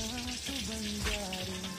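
A few green chillies fry in hot oil, a soft, quiet sizzle with light crackles close by, steady for a couple of seconds without talk.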